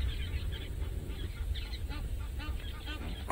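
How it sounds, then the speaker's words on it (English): Egyptian geese sitting along a riverbank on safari make repeated harsh honks and squawks, moderately distant, over a heavy low rumble of wind or vehicle noise. "the peanut gallery of the Egyptian geese, all making a noise."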